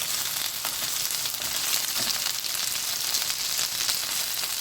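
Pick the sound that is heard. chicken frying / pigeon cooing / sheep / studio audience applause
chicken frying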